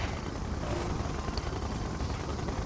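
A siege chopper helicopter in the strategy game Red Alert 2: Yuri's Revenge, heard as a steady, even rumbling drone with no breaks or voices.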